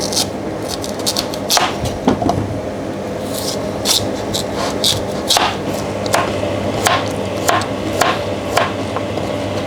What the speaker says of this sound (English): We slice the young coconut neck